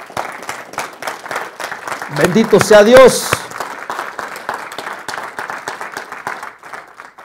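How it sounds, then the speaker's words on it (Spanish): A church congregation claps in a rhythmic round of applause throughout, with a voice briefly calling out over the clapping midway. "Le da un aplauso a Dios, hermano,"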